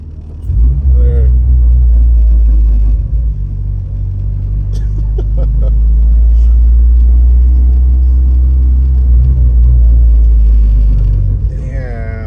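A 2008 Honda Civic Si with a manual gearbox cruising in fourth gear gives a loud, steady low engine drone, with voices talking over it.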